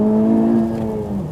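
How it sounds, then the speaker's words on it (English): A Honda Civic Type R engine pulls under acceleration in sport mode with the exhaust valve open, a smooth rising tonal drone heard briefly from inside the car before easing off. "Listen to how good that engine sounds."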